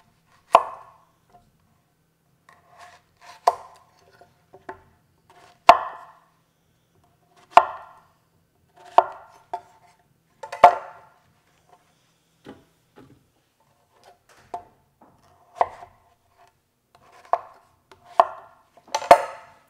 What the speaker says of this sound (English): Get this squash cut up, same way as I did the zucchini.